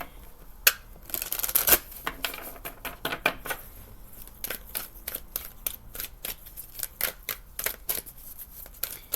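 Tarot cards being shuffled by hand in a quiet room, a steady run of crisp riffling flicks and soft slaps that comes in bursts, with no talking over it.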